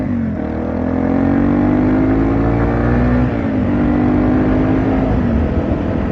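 Yamaha TW200 motorcycle cruising on a road at about 35 mph, its steady engine drone rising and shifting pitch slightly, recorded up close with wind rush mixed in and no talking.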